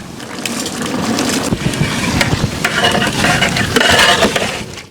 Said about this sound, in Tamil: கறி நல்லா தளதளன்னு கொதிக்குது